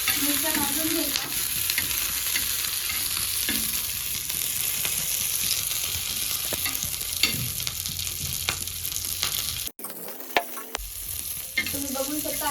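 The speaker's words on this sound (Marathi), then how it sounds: "मिरच्या भाजून घ्यायच्या." Green chillies roasting on a hot tawa give a continuous close sizzle, broken by scattered scrapes and taps as they are turned and one brief dropout near the end.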